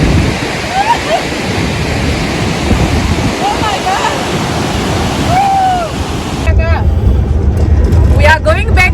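Ruacana waterfall in Africa roars as a loud, steady broadband rush, with wind buffeting the microphone and faint voices and bird-like chirps drifting over the continuous water noise.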